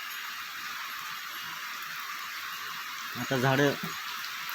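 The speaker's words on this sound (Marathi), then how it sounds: "आज 20-25 दिवसानंतर पाऊस पडायला चालू झाली." Steady rain returning after a dry spell of nearly three weeks, falling over parched trees and plants, makes a constant broad hiss throughout; someone speaks briefly near the end.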